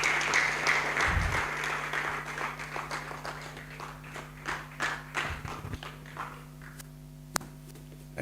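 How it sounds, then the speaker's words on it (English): Audience applause at a national students' anti-corruption awards ceremony, steady clapping that gradually thins and fades, with a few thumps and a sharp tap near the end. "You stop clapping when he reaches on the stage."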